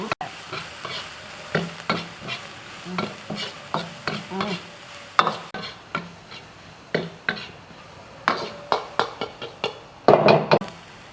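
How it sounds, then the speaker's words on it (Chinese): Chili peppers are stir-fried in a home kitchen wok, with a spatula knocking and scraping in a steady rhythm over a soft sizzle of hot oil. The sound is close, and no one speaks. "下入辣椒，先把辣椒炒熟。"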